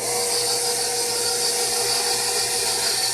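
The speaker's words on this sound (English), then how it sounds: "you can use a hand mixer or whisk. And I'm going to put this on low." An electric hand mixer runs on low speed while mixing chocolate rum cake batter, a steady, loud, unbroken motor whir with a bright high hiss that holds even throughout.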